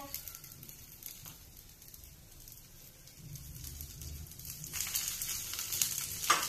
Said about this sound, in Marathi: आता आपण ह्याच्यामध्ये 2 चमचे तूप टाकून घेऊया।